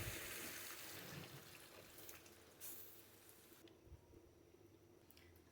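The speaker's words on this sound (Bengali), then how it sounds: "গরম পানি দিয়ে দিব।" Hot water pours into a pan of simmering cauliflower, potato and tomato curry with fried katla fish, a soft continuous splashing and gurgle that thins out and fades, fairly quiet, with no talk.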